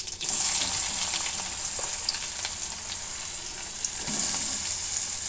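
Chopped onion and a few large cloves of chopped garlic frying together in a pan for a cauliflower mash, a steady close hiss of sizzling oil with occasional soft stirring scrapes, no talking.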